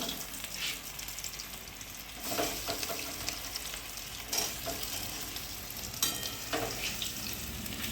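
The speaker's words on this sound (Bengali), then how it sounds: "আমাদের প্রায় তেল গরম হয়ে গেছে আমি এবারে আস্তে আস্তে চপগুলো দিয়ে দেবো" Vegetable chops fry in hot oil with a constant close sizzle, broken by a few louder bursts as pieces drop in or get turned; no one speaks.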